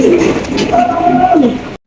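Low, soft cooing of a pair of exhibition pigeons close by, a few rolling throaty calls in quick succession, ending abruptly.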